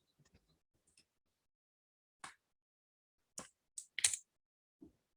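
Scattered computer keyboard keypresses while selecting code and running it with Ctrl+Enter in an R script: a few faint taps, then several sharp, close clicks spaced irregularly in an otherwise quiet room.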